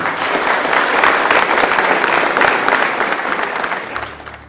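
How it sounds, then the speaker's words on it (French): A crowd applauds together at a factory training-centre inauguration, loud and dense clapping that holds steady and tapers off near the end. "Je pense qu'on peut applaudir pour ça."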